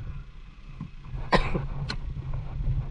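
A person gives two short, harsh coughs a moment apart over a low background rumble.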